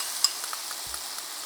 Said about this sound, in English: We're gonna fry it here in the pan.